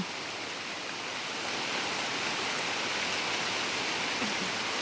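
Steady rain falling over a rural garden plantation, a dense, even hiss that stays constant and fairly close throughout, with no voices.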